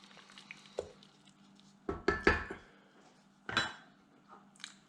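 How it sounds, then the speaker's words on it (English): A spoon stirs a pot of Nigerian cornchaff, knocking and scraping against the pot in a few loud clinks and clatters between quiet pauses. "Give it a quick stir."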